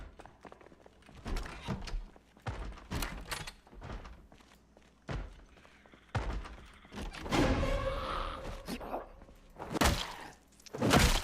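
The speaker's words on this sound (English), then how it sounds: "Here's somebody banging on the door." Somebody bangs on a door in the survival game Project Zomboid, a series of irregular thuds and knocks, some heavier and clustered, mixed with shuffling and scraping game noises and no talk.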